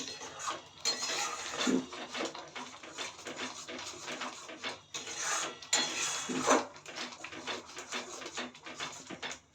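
Paneer stirred in a pan of spices for home-made butter paneer: steady metallic scraping and clinking of a utensil against the pan, with a few louder clatters, close up and continuous, no talk.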